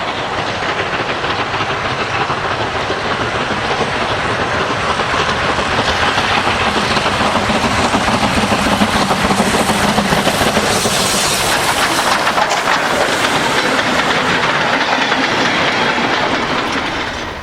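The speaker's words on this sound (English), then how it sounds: "The USA Transport Corps 5197 at Stogumber, normally based at the Churnet Valley Railway." USA Transport Corps 5197 steam locomotive running at Stogumber, a steady loud rumble of rolling train with rail clatter throughout, continuous and close, without voices.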